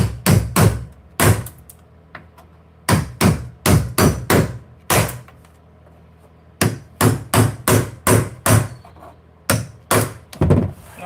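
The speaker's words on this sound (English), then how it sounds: "I think I'm gonna have to chisel every one of those." Hammer-driven chisel strikes on boat motor parts, sharp metallic blows in quick bursts of two to five hits separated by short pauses, close and loud.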